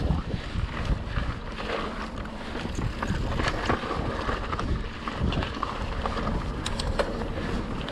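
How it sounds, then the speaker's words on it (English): Steady wind buffets the microphone while mountain biking on a trail loop in Sedona, a loud continuous rushing roar with gusty swells that lasts throughout. "Oh, the wind feels nice."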